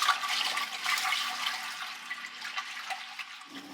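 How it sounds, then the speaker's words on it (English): Pot of vinegar and sugar pickle brine at a rolling boil on a kitchen stove, a steady close bubbling and rushing hiss that stays fairly loud throughout with no talking. "It's boiling really well."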